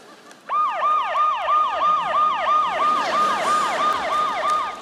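A loud wailing ambulance siren starts abruptly and cycles rapidly and steadily, close by and unbroken for several seconds.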